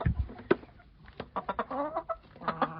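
Hens and roosters on a rural Ukrainian farmyard cluck and chatter at close range in a string of short, overlapping calls, with one sharper squawk near the start.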